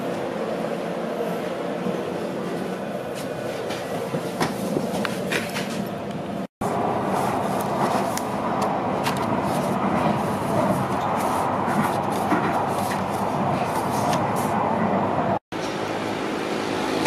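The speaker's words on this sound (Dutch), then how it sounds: "This is Metro Line D to Rotterdam Centraal." A Rotterdam Metro Line D train runs with a steady, loud rolling rumble and hiss that continues throughout, broken by two very brief cutouts.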